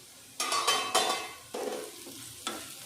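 Food fries in a pan while it is stirred: a soft sizzle is broken by several loud scraping, clattering stirs, the last a few seconds apart, with no voices.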